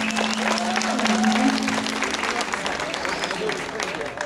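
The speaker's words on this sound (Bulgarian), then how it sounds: "Аплодисменти за нея, разбира се." An audience at a school graduation ceremony in Varna applauds steadily, with dense, even clapping throughout and a faint tone underneath.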